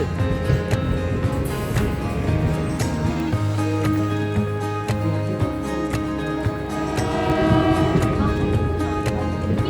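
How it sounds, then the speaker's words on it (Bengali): Ride inside a moving passenger train in Bengal, with a steady low rumble and rattle of carriages on rails running throughout, a sustained hum in the middle, and people talking over it. "গাইস, আমরা ট্রেন উঠে পড়েছি"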